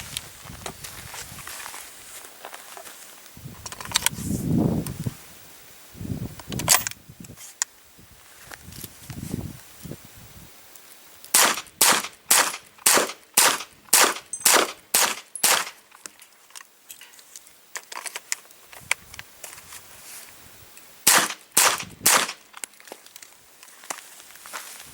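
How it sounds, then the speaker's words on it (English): A Hi-Point 995 carbine fires cast bullets in a rapid series of sharp, loud outdoor shots, a quick string and then a shorter burst, with quieter handling noises before them. "I'm going to do a failure to feed test using Hensley & Gibbs number 115 bevel base cast bullets."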